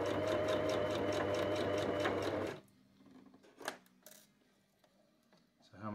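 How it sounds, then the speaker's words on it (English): A sewing machine stitching fabric for a custom scooter seat cover runs loud and steady with a rapid, even mechanical chatter for over two seconds, then stops, leaving faint clicks and handling noises. "I would like to know what it's like to actually stitch some fabric."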